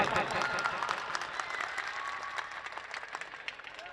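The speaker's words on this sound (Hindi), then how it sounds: "हम जोरदार इनका तालियों के गड़गड़ाहट से इस्तकबाल करते हैं" Loud, sustained audience applause at a religious jalsa (Islahe Muashra conference) welcoming guests, dense clapping from a large crowd continuing steadily throughout.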